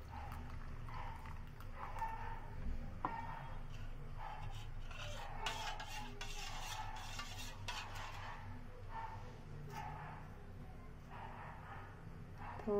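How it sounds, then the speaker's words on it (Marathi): A spoon stirs a raspberry-flavoured Wickfield jelly crystals mixture, giving steady soft scraping and light clinks against the bowl that run continuously at close range without pause. "हे ह्याच्यात असं मिक्स करूया."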